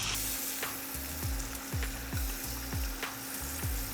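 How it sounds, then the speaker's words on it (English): Chicken sizzles steadily in a hot pan, with a bright continuous fry hiss and faint repeated scraping or stirring taps, close and without talk. "so now I'm gonna go ahead and flip the chicken over."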